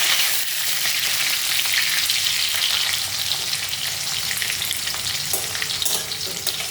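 Whole garam masala spices and bay leaf frying in hot oil in a pan, giving a loud, continuous close-up sizzle that holds steady from start to finish.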